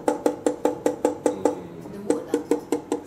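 Violin with an open side seam, played so the body buzzes: a steady run of short, evenly spaced bowed or plucked pulses, close and moderately loud, with a brief gap partway through.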